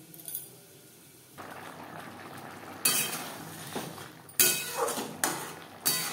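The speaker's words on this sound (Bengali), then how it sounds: "তিন 4 মিনিট গ্রেভি বেশ ভালো করে ফুটিয়ে নেব।" A Bengali coconut and snake gourd curry gravy simmers in a pan, giving a steady low bubbling hiss broken by several sharp clanks of a utensil against the cookware.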